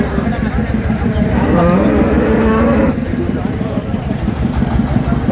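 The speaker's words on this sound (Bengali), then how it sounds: "গাভী বাছুর" Dairy cows and calves moo at Raniganj cattle market in Dinajpur, with one drawn-out low moo rising over a busy crowd murmur and nearby people talking.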